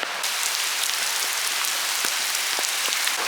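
Heavy rain from a beach storm falls in a steady, dense hiss with scattered drop taps, close and loud throughout, no voices.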